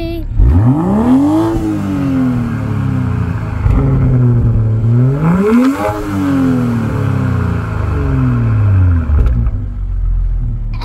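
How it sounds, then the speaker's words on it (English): A BMW M340i xDrive LCI heard from behind the car revs loudly twice, each rise sweeping up sharply and falling back to a rumbling idle, close and dominant throughout. "You can hear it's a very loud rev sound, and it was very loud."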